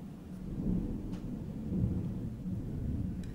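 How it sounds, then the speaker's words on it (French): Deep thunder from a storm rumbles steadily through the whole stretch, low and heavy, with a faint hiss of rain and no voices. "C'est l'orage."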